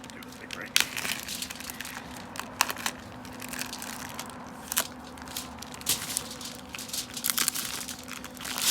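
Plastic packaging around a bone-in pork butt crinkles and rustles up close while it is cut open, with scattered crackles and sharp snips over a quiet background hum; no clear talking.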